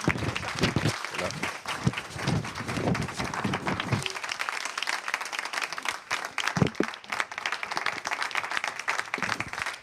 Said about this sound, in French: on applaudit le maire